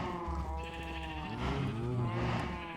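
Several sheep bleat in a Minecraft modpack game, overlapping wavering calls close by, one after another over a low background.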